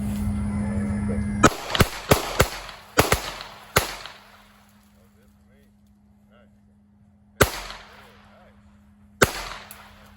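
Gunshots from a gun aimed at a silver target ring out as sharp, loud, close cracks: a quick burst of about six irregular shots, a pause, then two more single shots, with a steady hum underneath and a voice at the start.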